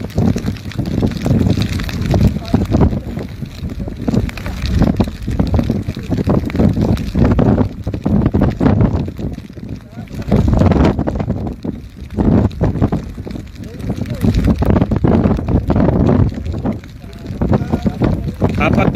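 Strong typhoon wind roars and buffets the microphone in gusts on a seashore, with rushing noise throughout and a voice talking over it.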